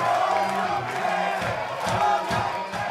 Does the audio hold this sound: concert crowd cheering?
yes